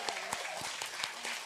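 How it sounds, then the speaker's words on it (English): An in-studio audience at a live radio session claps together in a brief, close burst of applause with distinct individual claps. "Give yourself a round of applause."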